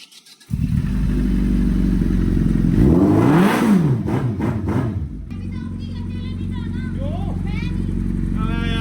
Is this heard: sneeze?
no